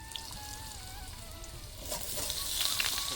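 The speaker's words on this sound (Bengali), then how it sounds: "আমি কড়াতে তেল দিয়ে নিচ্ছি, এবারে তরকারিটা বসিয়ে দেবো" Vegetables drop into hot oil in a kadai and set off a low sizzle that swells to a brighter, louder crackle toward the end, close by and without talk.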